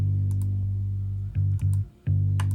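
Bass guitar driven through a classic SansAmp distortion for an edgy, gritty tone, playing thick sustained low notes that break off in a few short stops and restarts, loud and close with no voices.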